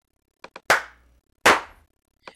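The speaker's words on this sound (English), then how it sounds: "we showed you how to take a simple hand clap and fatten it up to create a fuller master clapper effect" A fattened, layered hand clap sample built in GarageBand for a master clapper effect, playing as a few sharp, punchy claps with brief decays, two small taps leading into two full hits.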